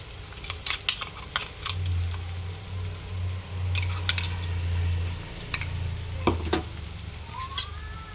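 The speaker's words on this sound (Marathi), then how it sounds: "आता आपण त्याच्यात टाकूया अद्रक लसूण हिरवी मिरची कोथिंबीरची पेस्ट" Ginger, garlic, green chilli and coriander paste sizzling as it sautés with onion and tomato for a homestyle chicken curry, steady frying hiss broken by repeated spatula scrapes and clinks against the pan.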